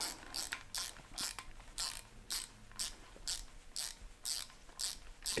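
A hand ratchet clicks in quick bursts of rapid pawl ticks, about twice a second with short pauses, while tightening a bolt on a camshaft timing chain during an engine cam install. The sound is close and clear, with no talk.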